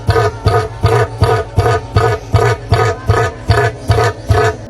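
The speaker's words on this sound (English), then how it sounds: "Cassowary bird." A cassowary makes about ten deep, booming pulses in a steady rhythm, each a low rumble with a rough upper edge, loud and close.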